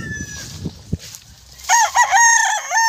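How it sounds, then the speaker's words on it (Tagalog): A rooster kept with the family's chickens on a rural Philippine home plot crows loudly near the end, in a long wavering call, after a stretch of low background noise. "Manok."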